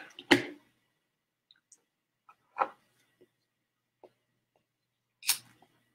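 A cigar is snipped with a cutter. A few sharp, isolated clicks and snaps sound close by, spaced out over quiet gaps, with faint tiny ticks between them.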